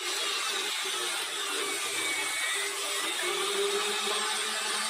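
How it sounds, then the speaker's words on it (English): Band saw cutting thick, tough metal stock lubricated with wax, a steady loud grinding hiss with a faint rhythmic bump each blade cycle, continuous and alone with no voices. "The saw is obviously still bumping every cycle, but it doesn't feel as sharp through the handle."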